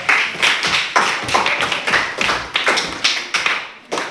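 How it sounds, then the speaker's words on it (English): A classroom of students claps for a classmate, loud and close, in a rhythmic series of sharp bursts that keep going for several seconds. "A clap for her. A clap for her."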